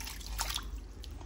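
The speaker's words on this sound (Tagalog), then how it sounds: "Maglagay tayo ng kaunting tubig." A little water is poured into a pot of chicken adobo on the stove, giving a short soft trickle and splash over a low hum of background noise.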